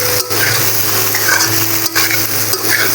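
Taro stolons frying in a pan with coconut powder, a continuous sizzle and crackle broken by brief pauses and scraping stirs, close and fairly loud with no talking.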